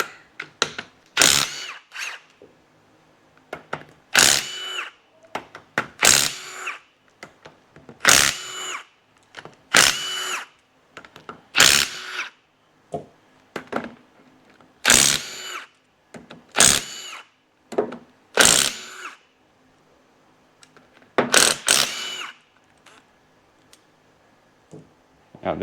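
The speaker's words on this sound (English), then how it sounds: "Now what we can do is undo this ring of bolts around the outside." A power tool with a 14mm socket undoes the ring of bolts on a Toyota Hilux front differential, giving about a dozen short, sharp rattling bursts spaced a second or two apart, up close with quiet gaps between.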